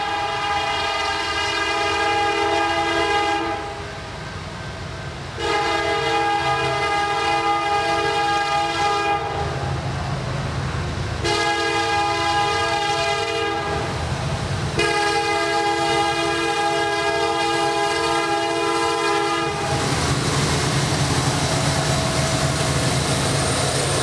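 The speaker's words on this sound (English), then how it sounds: "Train's here." A Norfolk Southern northbound mixed freight train rolls past at close range in Mableton, Georgia, its multi-chime horn blaring in several long, loud blasts over the steady rumble and rattle of cars.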